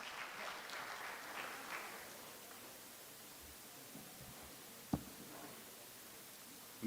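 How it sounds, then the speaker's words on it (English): An audience at an alumni association convention session, NITK Surathkal, claps in a soft, dense patter that fades out over the first two seconds, leaving quiet room hiss and one sharp knock. "the most difficult job of an anchor is to request the audience to keep clapping"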